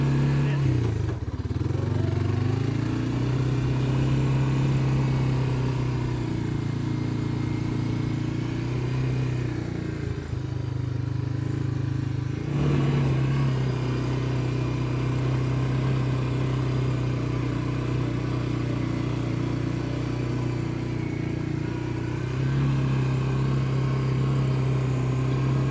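A Honda Fourtrax ATV engine runs continuously at a loud, close level while shifting and driving. It drops in pitch and rises again at a couple of points, with voices talking over it.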